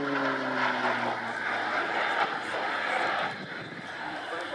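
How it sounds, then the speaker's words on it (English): A Slovenian PC-9 Swift single-engine turboprop flies a display at an air show, producing a loud, sustained propeller drone with a falling tone early on. An announcer talks over it. "the first ever Slovenian contribution to a Riyadh flying display. In this case, the aircraft was a PC-9 Swift"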